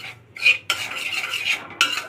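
A spoon scrapes and stirs semolina roasting dry in a kadai, giving a few close, crisp bursts of scraping with short pauses between them and no talk.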